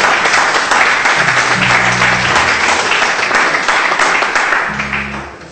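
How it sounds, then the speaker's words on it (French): Loud, dense applause from a church congregation fills the space, steady clapping that slowly tapers toward the end, with a few brief tonal sounds underneath. "Applaudissez un peu Jéhovah."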